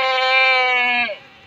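A single loud, close goat bleat at a livestock market, a sustained nasal call of about one second that cuts off abruptly; the goat is a Beetal.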